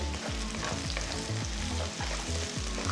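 Garlic cloves and green chillies frying in a pan while being stirred, a steady close sizzle with regular rhythmic scraping strokes of the spoon against the pan about twice a second; no speech.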